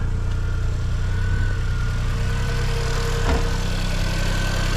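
A Suzuki Cappuccino engine fitted with an HKS intake and with its blow-off valve deleted idles steadily and loudly, a continuous low rumble with a faint whine and a brief bump near the end, no talk.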